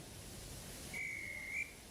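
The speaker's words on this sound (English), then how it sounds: "the guard's whistle blew" A train guard's whistle gives a single thin, steady high blast of about half a second. It sounds moderately near over a soft, steady background hiss.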